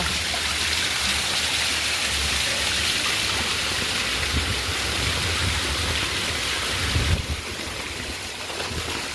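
Steady heavy rain pours down in a dense, continuous roar, close and loud, with no voices, as water runs off rooftop terraces and floods a courtyard.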